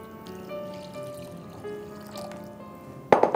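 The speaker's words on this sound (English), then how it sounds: "Now add enough water" Water poured into a bowl of rinsed rice, a soft, faint trickle and splash in a quiet kitchen, ending in a brief louder burst of pouring near the end.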